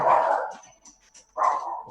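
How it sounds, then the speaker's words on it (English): Dogs bark twice nearby, each a short burst of deep barks with a brief quiet gap between them. "Dogs, one sec."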